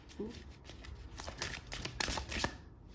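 Tarot cards handled and drawn from a deck, a few soft papery slides and crisp flicks close by, short bursts scattered across a few seconds as someone talks quietly over them.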